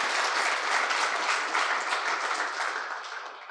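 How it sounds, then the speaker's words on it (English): An audience gives a big round of applause at a youth leadership event in Zimbabwe, a full, steady wash of clapping that holds strong and only eases slightly toward the end. "let's give him a big round of applause"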